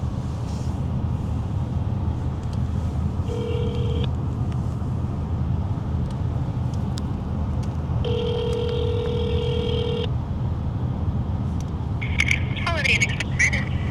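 A telephone ringback tone plays twice, in a short burst and then a longer one, over steady road rumble from inside a moving car on a winter road trip.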